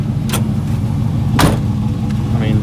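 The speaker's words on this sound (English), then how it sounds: "I barely shut this door too." The door of a 1975 Pontiac Firebird Formula with an LS swap shuts, a short, solid thunk over a steady idling engine rumble, with a couple of other faint clicks nearby.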